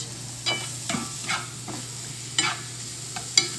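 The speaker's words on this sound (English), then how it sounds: "my mushrooms are starting to sizzle a little bit. So I'm going to give them a nice little stir around" Soft frying sizzle of mushrooms hisses steadily in a pan while utensils scrape and clack against it in irregular stirring strokes.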